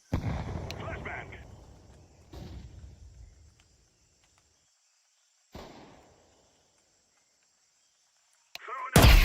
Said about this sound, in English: Throwing the flashbang! Flashbang!